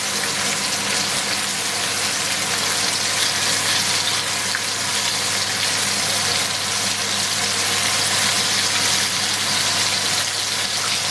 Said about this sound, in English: I'm gonna turn on the cooker hood so you know how that works. It's gonna make a lot of noise